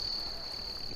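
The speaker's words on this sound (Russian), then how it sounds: "А это звуки тропического леса," Tropical forest near Cape Garagasi on the Maclay Coast of New Guinea, filled with a steady, dense chorus of insects, a continuous high shrill of crickets droning at even loudness over low rustling background.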